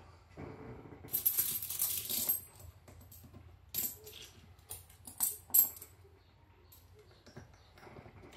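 Metallic clinks of Clans of Caledonia board game coins being counted out, a burst of rattling followed by several separate clinks, close and fairly quiet.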